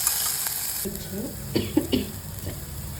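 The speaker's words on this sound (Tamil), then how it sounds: "இப்போ இஞ்சி பூண்டு பச்சை மிளகாய் இதெல்லாம் இதுவும் நல்லா வதக்கிக்கலாம்" Ginger, garlic and green chillies sizzling in oil in a pan, with a soft continuous fry broken by several close scraping stirs of a spoon, no talk.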